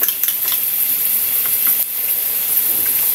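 An egg fries in hot oil seasoned with salt and Ajinomoto, giving a steady, close, loud sizzle and hiss with a few light stirring scrapes and no talking.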